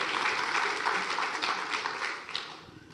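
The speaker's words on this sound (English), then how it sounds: "Applause for the stick" A talk-show audience in America gives a burst of applause that is loud and dense at first, then thins and fades over a few seconds, with faint voices underneath.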